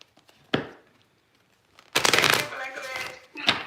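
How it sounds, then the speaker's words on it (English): Tarot cards riffled in a quick shuffle at close range, two brisk bursts of flapping card noise separated by a pause, with a short tap of cards beforehand and a final knock at the end. "so I've shuffled the cards and everything like that"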